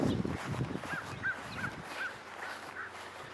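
Several birds give repeated short, raspy calls at a moderate distance over a faint outdoor background, with footsteps or rustling at the start and no talking.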